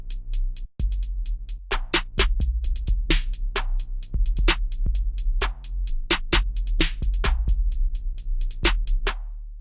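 Rap drum beat made in FL Studio 20: punchy kicks with deep low booming tails and crisp snare and hi-hat hits in a steady programmed pattern, loud and close with no voices.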